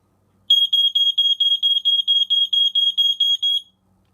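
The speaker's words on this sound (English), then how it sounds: "let's test it with the light and the horn" A Fyrnetics Lifesaver 0908 smoke alarm blares a loud, high-pitched electronic beep from its horn, pulsing rapidly in an even rhythm for about three seconds before stopping.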